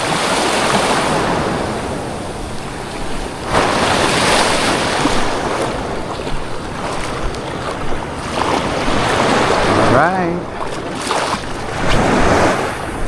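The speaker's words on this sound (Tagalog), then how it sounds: "medyo may alon-alon ngayon kaya sure basaan ito" Steady rush of sea waves and surf with heavy wind buffeting, waves swelling and breaking close by.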